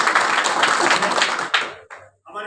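Loud, dense applause from an audience at a meeting of bhajan folk singers in Jaisalmer. It fills most of the moment, then thins to a few scattered claps before breaking off briefly.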